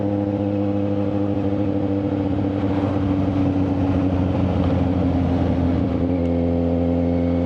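A vehicle engine drones steadily on a highway stretch near Bulacan and Pampanga, with a brief swell in the middle as it revs harder, continuous and fairly close throughout.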